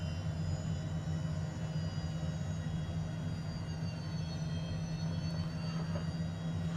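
A FlightFX HA240 HondaJet taxis on a snowy runway in Microsoft Flight Simulator 2020, giving a steady low jet engine hum with faint higher whine, constant and unbroken throughout.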